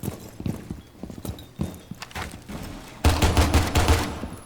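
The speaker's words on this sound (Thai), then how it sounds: "เสียงปืนพวกนี้มันดูแบบแปลกๆไง" Rapid bursts of gunshots in the video game Rainbow Six Siege crack out in uneven clusters, growing louder and denser in the second half, with dull thudding impacts mixed in.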